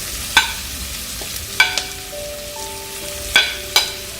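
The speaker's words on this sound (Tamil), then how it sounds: "நான் இப்போ இந்த பச்சை மிளகாயும் கருவேப்பிலை பச்சை மிளகாய் சேர்த்துடுறேன்." Green chilies and curry leaves fry in a pan with partly cooked onions, giving a soft sizzle broken by a few sharp spoon-scraping stirs.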